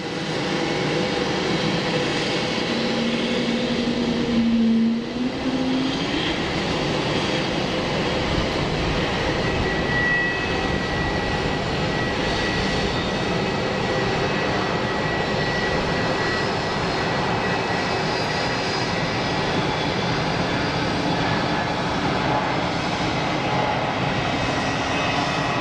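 Jet engines of an airliner at Geneva Airport roar in a broad, steady rumble that builds and holds for the whole stretch, loud and fairly near, with a brief tonal whine early on and no talk over it.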